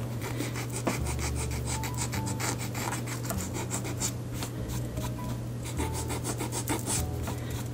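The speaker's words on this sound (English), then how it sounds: "So using sandpaper, about 300 grit, you're gonna go back and forth and kind of shave that leather down." A leather dress shoe being sanded by hand with 300 grit sandpaper, steady close rasping strokes back and forth in a continuous scratchy rhythm.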